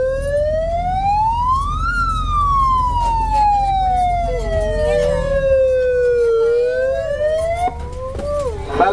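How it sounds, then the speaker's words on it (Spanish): A loud vehicle siren wails in the street, its pitch sweeping up and down in long rising and falling arcs over a low engine rumble, close by and continuous. "donde escuchen la sirena, salgan donde está la sirena"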